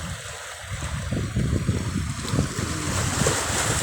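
Low, churning sea waves with a steady wash of surf and some wind at Joroan, Tiwi, Albay, moderately loud and continuous with no voices.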